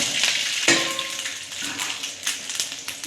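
Rice flour dumplings hit hot oil with mustard seeds, curry leaves and dried red chillies, giving a soft, steady sizzle broken by a few light taps and clinks from a utensil in the pan.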